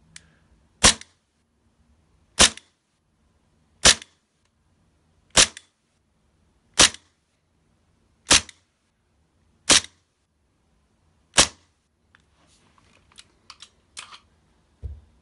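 Green gas airsoft pistol firing BBs one at a time over a chronograph, eight sharp, evenly spaced pops about one and a half seconds apart, close and loud, followed by faint clicks and handling noises.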